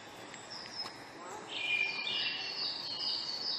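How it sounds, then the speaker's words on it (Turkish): Recorded birdsong played through a loudspeaker in an aquarium: faint chirps and whistled calls that swell about halfway through and keep going over a soft indoor murmur. "Ya ben de kuş seslerini gerçek zannettim. Hoparlördenmiş."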